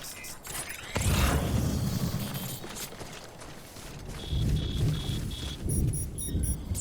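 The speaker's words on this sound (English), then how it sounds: "remember that prolonged exposure to timefall damages cargo containers. Don't stay out in the rain any longer than you have to." Timefall rain and rolling thunder in the Death Stranding video game, a steady downpour with heavy low rumbles swelling near one second and again around four to five seconds, plus faint high electronic beeps toward the end.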